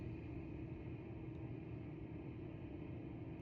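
A car rumbles at low volume outside, its engine idling steadily as it pulls up and parks, heard faint and muffled from indoors with no talking.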